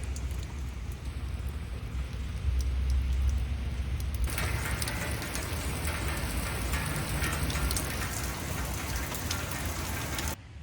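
Rain falling outdoors, a dense steady patter on surfaces that grows noticeably fuller and louder partway through, continuing evenly without talk.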